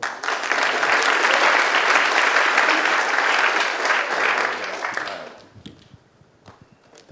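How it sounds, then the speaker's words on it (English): Conference audience applause, dense and loud for about five seconds, then fading into scattered claps and near silence. "Round of applause for Bill."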